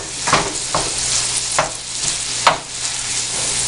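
Sausage frying in a pan with butter spread, a steady close sizzle broken by a few sharp scraping strokes as a utensil breaks the meat up, no talk.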